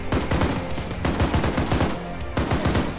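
Rapid automatic gunfire in a military shooter game, dense bursts of loud shots rattling almost continuously with short gaps, close and dominant with no talk over it.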